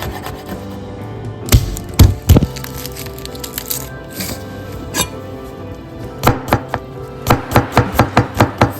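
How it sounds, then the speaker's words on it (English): Knife finely chopping red chilies on a board for a pork shoulder steak dish, with scattered heavy chops early on and then a quick, even run of close, sharp cuts. "Let's cut the red chilies fine chopped."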